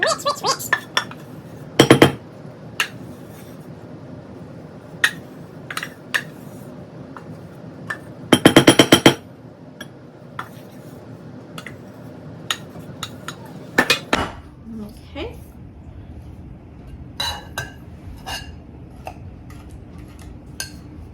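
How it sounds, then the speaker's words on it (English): A spoon clinks and scrapes against a bowl while sourdough discard brownie batter is mixed, scattered sharp knocks with a couple of rapid clattering bursts, close by over a quiet background. "going to mix this until it is well combined"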